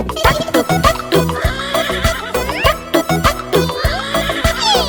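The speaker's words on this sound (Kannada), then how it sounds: "ಕೆನೆಯುವ ಕುದುರೆ ನಡೆ ನಡೆ ನಡೆ" A horse neighs within a busy Kannada children's rhyme about a trotting horse, the whinnies riding over bouncy music and rhythmic hoof-like beats throughout.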